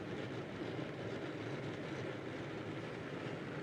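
An OO gauge model tank engine hauls goods wagons in a faint, steady, continuous rumble that runs alone throughout, with no talking.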